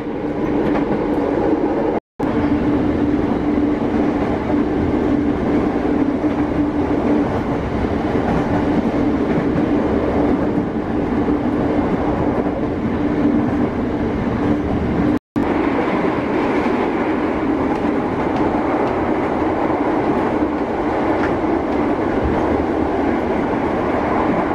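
Interior of a moving JR 205 KRL commuter train car carrying many standing passengers, with a loud steady rolling rumble and rail noise throughout, broken by two brief sharp clicks.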